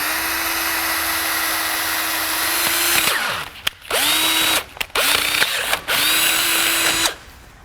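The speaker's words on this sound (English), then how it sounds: "I'm just going to drill 2 holes in the back here" Power drill fitted with a 3/8 cobalt bit boring holes in metal on a car project, a steady high whine that bogs and stutters in several short bursts as it bites, spinning up and down between holes, close and loud.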